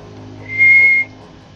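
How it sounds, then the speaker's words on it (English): A person whistles a single clear, steady note lasting about half a second, loud and close, against a quiet background hum. "Occasionally I whistle."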